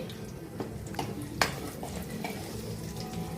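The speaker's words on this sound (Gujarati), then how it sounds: "અમારું તેલ ગરમ થયું છે એમાં હું એડ કરીશ ઝીણું સમારેલું આ લસણ છે" Finely chopped green garlic frying in hot oil in a pan, a steady close sizzle with a brief sharp clatter of utensil on pan partway through.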